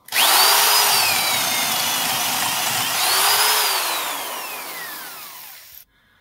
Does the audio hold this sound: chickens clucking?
no